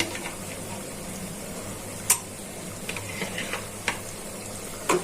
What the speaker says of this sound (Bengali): এখন মাছগুলো দিয়ে দিচ্ছি